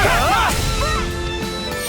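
A Shattering Thunder Ray attack in the video game Tales of Arise hits with a loud crashing impact and a bright electric sweep, fading over about two seconds amid game effects.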